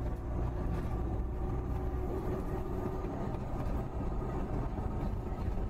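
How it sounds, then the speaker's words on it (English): A bus engine drones in a Roblox bus-driving game on Southwell Route 10 toward Ruddington, a low, steady, faint rumble that holds level throughout with no other sounds standing out. "this game's got some really good sounds for the buses"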